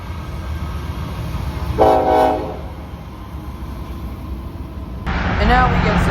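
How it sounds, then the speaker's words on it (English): A Norfolk Southern freight train led by a C6M Gevo locomotive with a second C6M trailing rumbles past in Altoona, a steady low roar with a brief horn-like tone and voices talking nearby. "Just a normal NS train with a C6M Gevo and another C6M trailing."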